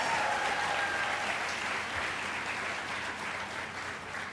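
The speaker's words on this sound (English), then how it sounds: "Have a nice round of applause for Mike." Audience applauds at a Casio G-Shock 30th anniversary event, a steady, loud wash of clapping that holds throughout and eases slightly toward the end, with no talk over it.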